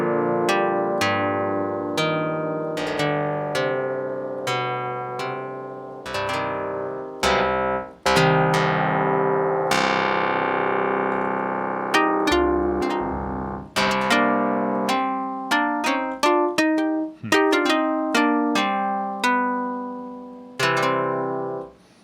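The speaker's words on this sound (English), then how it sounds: "play the string as though it's kind of like a synth keyboard sound." Plucked string notes from a Vocodec string synth preset ring out one after another in a melodic run, each with a sharp attack and a fading tail, clear and up close.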